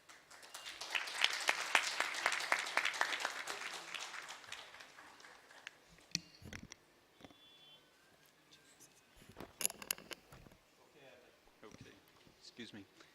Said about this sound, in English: So that was an applause